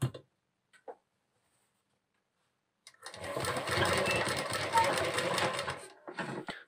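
A sewing machine stitches a fabric neckline, running in a fast, steady mechanical whir for about three seconds after a quiet pause. A few brief voice sounds come before the run and one more after it.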